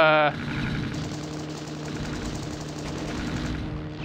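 Rapid machine gun fire from a World War I aircraft combat game, a continuous dense rattle of bursts running steadily for several seconds over a low engine drone.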